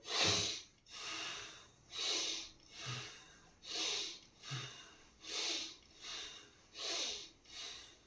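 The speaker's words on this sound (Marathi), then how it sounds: "श्वास लांब घ्यायचा आहे" Slow, deep rhythmic breathing during a yoga warm-up with hands on the shoulders, about nine long breaths in and out, close and quiet with no talking.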